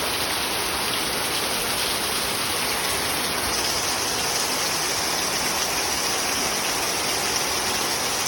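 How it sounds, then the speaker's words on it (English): Heavy rain downpour hissing steadily and densely at close range, an unbroken wash of falling water with no voices. "This is a good heavy downpour."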